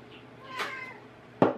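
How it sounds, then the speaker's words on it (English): A hungry house cat meows indoors: a soft call near the start, then a louder, sharper meow close by near the end, with a quiet room between. "That's my kitty cat, he's hungry."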